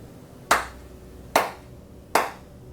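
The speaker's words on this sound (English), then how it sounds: "start the session with a regular prayer by making 2 bows and 3 hand claps" Three sharp ritual hand claps during a home prayer, following two bows, evenly spaced about a second apart and heard close and clear against a quiet room.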